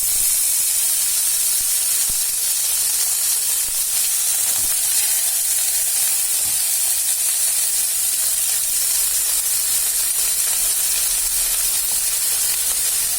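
Broccoli and pepper sizzle in a hot pan with mustard seeds, a loud, steady, close hiss of frying that holds evenly throughout with no talking.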